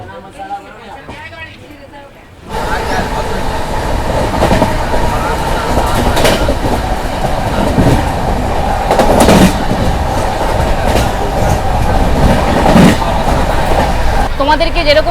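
A sleeper-coach passenger train running on rails between Mirzapur and Prayagraj on a Kolkata to Jodhpur journey, with a steady loud rumble and rhythmic clatter that starts abruptly after a quieter opening, with muffled voices from the carriage.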